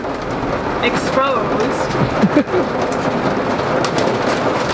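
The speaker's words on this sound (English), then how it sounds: "It hailed at home and now it's hailing here." Hail falls steadily during a storm at Harrison Lake State Park, a dense broadband patter that fills the whole span. Brief higher chirps cut through it, and a voice speaks briefly over the din.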